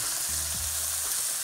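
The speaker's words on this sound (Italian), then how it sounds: "abbasso la fiamma e vado a girare le coscette" Chicken thighs fry in a hot pan, a loud continuous sizzle filling the whole moment, with a few low knocks and scrapes as the pieces are turned.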